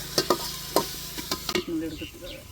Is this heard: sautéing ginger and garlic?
yes